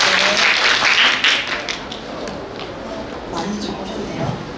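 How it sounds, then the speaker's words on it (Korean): An audience at a university innovation forum session in Korea claps in a dense burst of applause that gradually thins and fades, with faint voices underneath. "박수 많이 주십시오"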